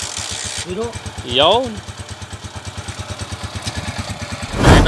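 A Honda TMX125 Alpha motorcycle converted to 200cc idles with a steady, even thumping beat close by, after a brief rev, with a short spoken word near the start.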